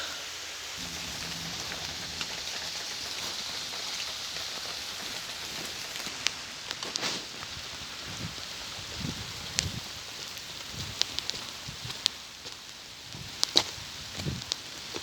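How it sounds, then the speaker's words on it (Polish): Steady rain falls with a broad hiss on a car repair workshop, scattered drops tapping close by on a surface, continuous throughout with no voices. "Pada deszcz."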